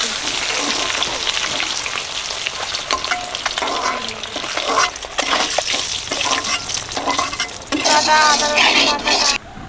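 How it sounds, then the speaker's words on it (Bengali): Continuous crackling sizzle of eggs frying in hot oil, with occasional scraping and stirring noises and a brief louder burst near the end. "বাকি ডিম ভাজা হয়ে গেছে তুলে নিচ্ছি"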